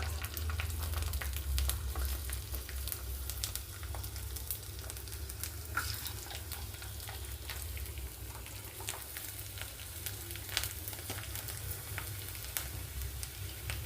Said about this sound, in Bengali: এই তেল বসিয়ে দিলাম, এবারে পাঁপড়টা ছাড়ছি